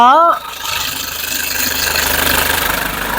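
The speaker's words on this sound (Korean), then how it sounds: "마지막으로 엔진 사운드 확인해 드릴게요." A car engine with about 20,000 km on it runs at a steady idle with the hood open, a smooth low hum with faint mechanical ticking, after a brief voice at the start.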